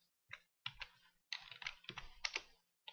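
Short bursts of typing on a computer keyboard, with quick clusters of close, crisp key clicks separated by brief pauses, fairly quiet overall.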